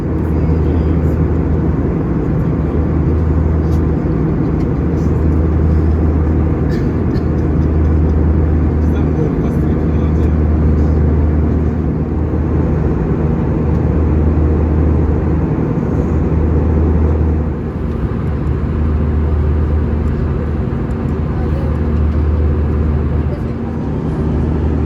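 Jetstar airliner landing on Brisbane's runway 19 left: loud, continuous cabin engine roar with a deep low rumble that shifts slightly partway through, steady and close for the whole stretch.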